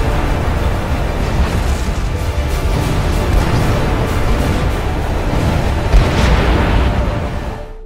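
A spaceship explodes in a film as a loud, continuous roaring blast with dense rumbling debris and crackle, sustained throughout and easing slightly at the very end.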